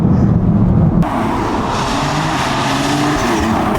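BMW M3/M4 with ZF8 gearbox accelerating hard toward the red line, a loud continuous engine roar with rising pitch and road noise from inside the car, no talk.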